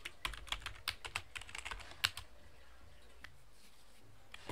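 Quick bursts of keystrokes on a computer keyboard while a password is entered in an Ubuntu Linux terminal, sharp close clicks in a fast irregular run for about two seconds, then a quiet room with a couple of stray taps.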